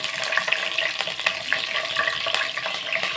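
Green chillies and onions fry in hot oil for a curry of drumsticks, potato and brinjal, giving a close, steady sizzle with light stirring clatter and scattered pops.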